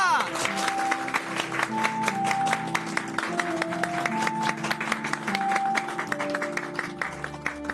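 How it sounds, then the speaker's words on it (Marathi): A group of people claps in a quick, steady rhythm at a reconciliation gathering in a Marathi TV drama, with music playing underneath throughout. "टाळ्या."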